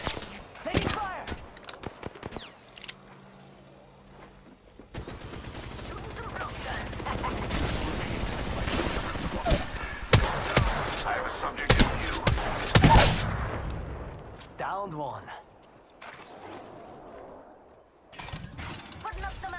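Gunfire in the video game Apex Legends, repeated bursts and scattered shots with thuds through much of the clip, while a player talks over the action.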